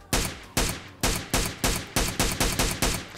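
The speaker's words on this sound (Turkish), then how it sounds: "Şuraya sıkıyorum kanka ayağını" Gunshots in PUBG Mobile, about nine sharp, loud reports fired in a steady, evenly spaced rhythm, each with a short decaying tail, with no talk over them.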